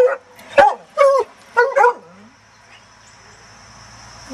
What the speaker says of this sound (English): I hear her barking.